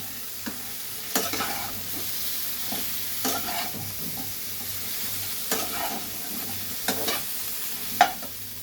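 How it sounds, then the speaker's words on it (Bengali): Vegetables stirred and fried in hot oil in a pan for a potato and green banana curry, with intermittent scraping strokes of a spatula over a steady low sizzle, close and moderately loud, no talking. "বেশ ভালো করে সবজিটাকে তেলের মধ্যে নাড়াচাড়া করব।"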